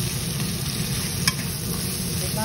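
Leftover rice stir-fried in a pan for fried rice, a continuous close sizzle with light scraping stirs and one brief clink near the middle.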